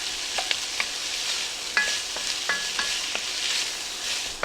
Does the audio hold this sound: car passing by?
no